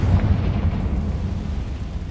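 A Confringo blasting spell from Hogwarts Legacy lands as a deep rumbling explosion, a heavy low boom that rolls on and slowly fades, with no talking.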